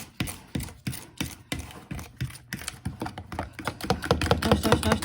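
Fork whisking pumpkin bread batter in a bowl, sharp regular clinking strokes that start evenly spaced and speed up into a faster rhythm, close and clear with no talking.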